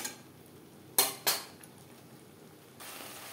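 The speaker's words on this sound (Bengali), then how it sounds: "মশলার সাথে আলু বেশ ভালো করে মিক্সড করে দেব।" Potatoes are mixed with spices in a pan for a Bengali katla fish head curry: two sharp utensil clinks against the pan stand out over a quiet background, followed by a soft rise in sizzle.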